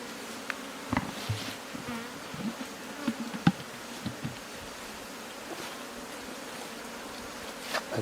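Bees buzz steadily around a honey harvest in Kongo Central, a faint continuous drone with occasional nearer passes and small knocks in the background.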